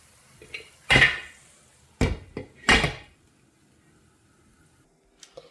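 A metal lid set down over a pot of freshly steamed puttu, a few sharp clanks and knocks of cookware close by with short pauses between them, no talking.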